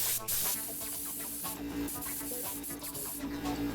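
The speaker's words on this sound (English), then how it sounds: "I first spray a coat of this white vinyl primer that is sandable." A spray gun sends white sandable vinyl primer onto wooden kitchen cabinet face frames, a hissing spray in short repeated bursts over a steady mechanical hum, close by.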